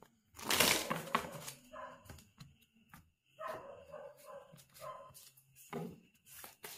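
Neighbourhood dogs bark in a few scattered bursts, fairly distant and intermittent, with quiet pauses between them.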